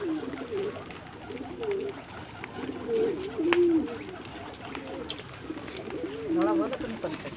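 Pigeons of several red and black varieties coo repeatedly in soft, rolling bursts close by, over a steady murmur of background noise.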